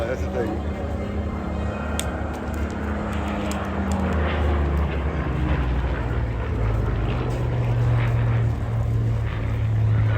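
A Spitfire fighter flies past at the Folkestone air display, its propeller engine drone swelling and growling as it nears, then easing off, with a low throb building toward the end and a commentator talking throughout.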